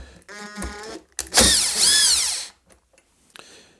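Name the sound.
screw being backed out of MDF with a drill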